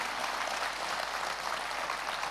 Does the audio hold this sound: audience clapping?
yes